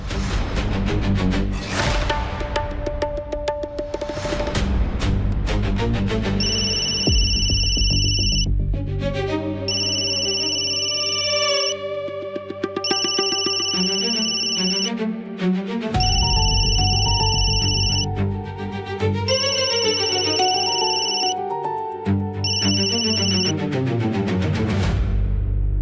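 A phone rings over and over in a repeating electronic melody, loud and close, with a dramatic music bed underneath and no talk.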